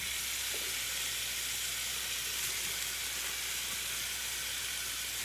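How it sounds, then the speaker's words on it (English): Steak-umm thin beef sheets, a whole pack of fourteen, sizzle in a hot pan with a continuous, even crackling hiss, close and steady, with no voices. "You can hear it already sizzling."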